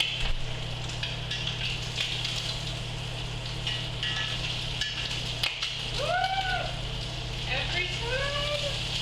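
Thin Target bacon frying in a pan, a soft constant sizzle running beneath a steady hum, with a person talking and rising tonal chirps toward the end.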